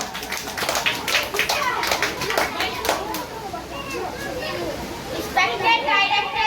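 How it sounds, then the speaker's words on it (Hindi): A crowd of schoolchildren at a coaching centre's Independence Day celebration claps steadily throughout, dense and fairly close, with children's voices and chatter mixed in. "एक बार जोरदार तालियां"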